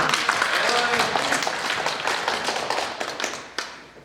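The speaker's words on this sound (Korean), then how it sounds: "박수 한번." Audience clapping in a lecture hall, a brisk burst of many hands that fades gradually toward the end, with a single sharper clap near the close.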